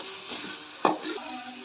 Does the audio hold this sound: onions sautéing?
yes